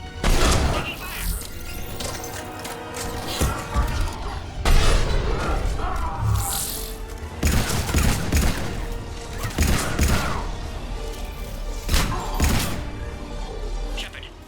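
Heavy gunfire in the Mass Effect 3 video game, repeated loud shots and thuds in bursts across the scene, with voices talking in between.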